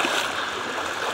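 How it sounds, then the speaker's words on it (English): Creek water flowing steadily as someone wades across, a close, even rushing wash with no talking. "So I'm gonna cross this creek here and hopefully not break my neck."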